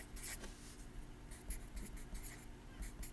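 Faint scratchy strokes of writing on a board during a math lecture, a series of short irregular scrapes and taps in a quiet room.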